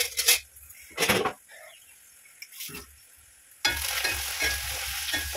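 Onions sautéing in a home kitchen pan: a soft sizzle with a few bursts of stirring and utensil scrapes against the pan, then a louder, steady frying hiss near the end, with no talk.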